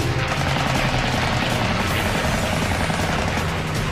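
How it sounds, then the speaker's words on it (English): .50 caliber machine guns on a WWII fighter plane over Guadalcanal fire a dense, continuous roaring rattle that fills the whole stretch, loud and unbroken, blended with engine noise. "He stays right with him, raking the enemy with his 50 cals."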